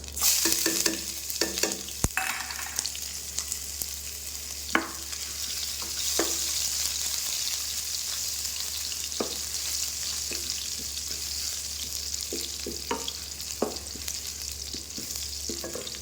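Cumin seeds, ajwain and ginger fry in hot oil in a pan for a Punjabi cauliflower dish, giving a steady soft sizzle with intermittent scraping stir strokes and a sharp clink near the start.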